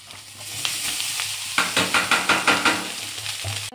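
Leftover rice fried in a pan with turmeric, salt and roasted spice powder sizzles steadily, while a spatula scrapes and stirs it in a run of quick, rhythmic strokes near the end.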